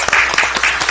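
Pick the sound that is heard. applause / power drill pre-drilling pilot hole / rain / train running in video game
applause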